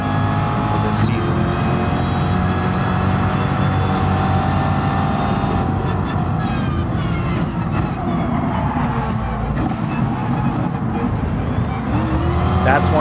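A Chevrolet race car in Gran Turismo Sport drones with a loud, continuous engine note that rises and falls through gear changes, while someone talks over it the whole time.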